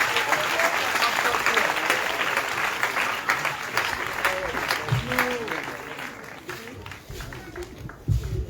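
A church congregation at an Easter celebration applauding to acclaim Jesus, a sustained crowd clapping that swells and thins over several seconds, with some voices mixed in.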